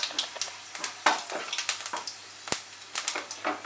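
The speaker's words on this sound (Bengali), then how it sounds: "এর মধ্যে আমি ফোড়ন দেব একটা শুকনো লঙ্কা আর হাফ টিস্পুন পাঁচ ফোড়ন। ফোড়নটাকে ফ্রাই করব 15 সেকেন্ড মতো।" Dried red chili and panch phoron splutter in hot mustard oil, irregular small crackles and pops scattered over a quiet pan, close and without voices.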